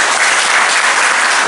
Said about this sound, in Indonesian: Tepuk tangan untuk Jamal.